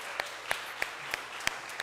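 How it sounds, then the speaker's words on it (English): A handful of scattered, isolated hand claps from a church congregation applauding Reverend Christina Jones after her Sunday message; the claps are sparse and quiet, spaced irregularly against a soft room hush. "a big round of applause for Christina"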